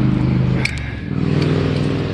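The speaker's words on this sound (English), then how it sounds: "I'm sure y'all just heard the motorcycle go rolling by" A motorcycle rolls past outdoors, its engine drone rising and fading in the background while a dutch oven cook works nearby, with a brief metallic clatter partway through.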